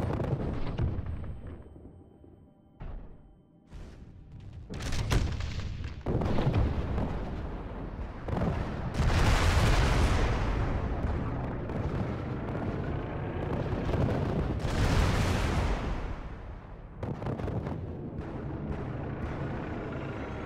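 LRM missile volleys and direct weapons fire in the MechWarrior Living Legends game, with rumbling blasts and booming explosions layered into a dense, continuous barrage that swells and fades across the clip.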